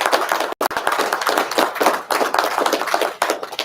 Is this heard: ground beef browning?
no